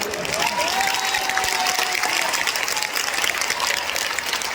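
A crowd at a religious gathering during an Amrit Mahotsav event in Ayodhya claps steadily, a dense, even wash of applause that holds without pause.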